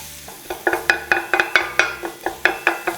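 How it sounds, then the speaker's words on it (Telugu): Two metal spoons scrape and clack rhythmically through chicken tawa pulav masala on a hot tawa, with roughly a dozen sharp, bright strikes over a steady sizzle, close and fairly loud, no talking. "ఇప్పుడు దీన్ని ఇలా రెండు స్పూన్స్తో కలిపితే మీకు ఈజీ ఉంటుంది"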